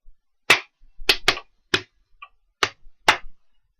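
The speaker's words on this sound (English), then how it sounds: "I will clap the examples 1, A, B, and C, and 2, A, B, and C." Hands clap a short rhythm exercise for concert band, six sharp claps in an uneven pattern, with a faint metronome tick sounding between them; no voices.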